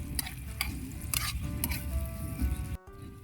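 Eggs frying in a pan are stirred, with a steady loud sizzle, repeated utensil scrapes and soft patters throughout, ending in a sudden cut to near silence.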